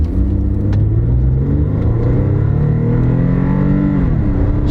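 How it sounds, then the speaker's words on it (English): A car engine hums and pulls steadily as the vehicle accelerates, pitch rising and dipping with gear changes, heard from inside the cabin. "Shifts like a dream. The engine sounds strong."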